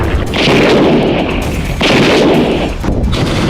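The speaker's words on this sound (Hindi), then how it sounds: "इस वीडियो में हिजबुल्ला इजराइल बॉर्डर पर लगे टावर और कमांड सेंटर पर रॉकेट दागता दिख" Rockets fired in a Hezbollah attack on a tower and command centre at the Israeli border make loud, continuous, booming bursts with short breaks between them.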